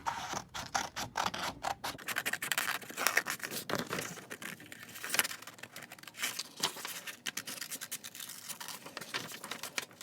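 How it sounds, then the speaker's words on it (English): Scissors snipping through material to cut out a poppet shape, a close run of crisp, irregular cuts and rustles with no talking. "So then you're going to want to use your scissors."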